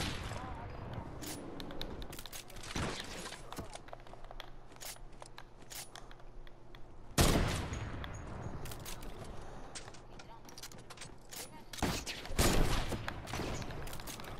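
Gunfire from Fortnite: scattered sharp shots and clicks with a few heavier, louder bursts spaced through the stretch, game sounds mixed with faint background voices.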